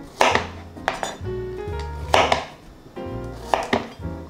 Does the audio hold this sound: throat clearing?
no